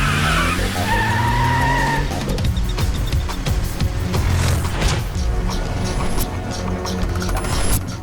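A car in an action movie skids hard as it is spun around, tires squealing over a roaring engine, loud and close, the screech sustained for several seconds with rough scraping throughout.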